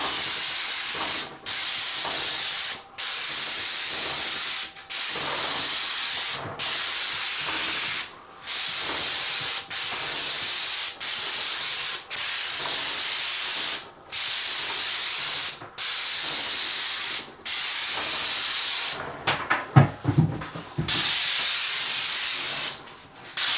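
Paint sprayer hissing steadily while coating a bathroom ceiling, long loud sprays broken by brief trigger pauses, with a few clicks and clatters near the end; no talking.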